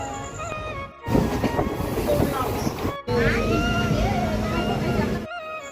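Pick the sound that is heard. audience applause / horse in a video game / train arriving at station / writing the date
train arriving at station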